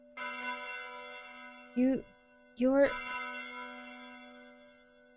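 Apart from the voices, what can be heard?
church bell chime in a visual novel video game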